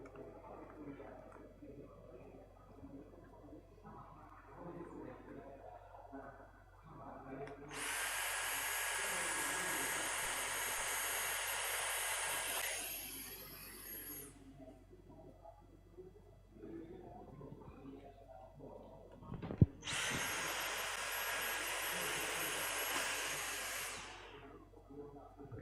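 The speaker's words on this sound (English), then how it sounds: "we will use this big power tool to take out the modules" A big power tool removing outdoor LED display modules runs in two loud bursts of high whirring, each lasting several seconds, over a quiet room with faint voices between.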